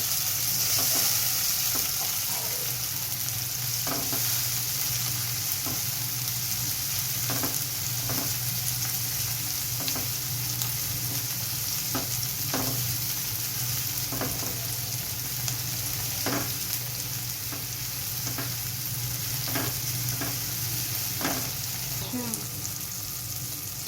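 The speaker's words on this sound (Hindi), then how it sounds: "अब हम इसके अंदर टमाटर ऐड कर देंगे और उसके बाद इसको थोड़ा सा भून लेंगे।" Chopped tomatoes sauté in a pan for an egg masala sandwich, giving a steady low sizzle with scattered clinks and scrapes of stirring throughout. No one speaks.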